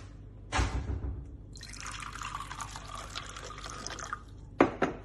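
A short splash of water pours into a blender holding grated coconut, followed by a few seconds of hissing trickle, then a firm knock near the end.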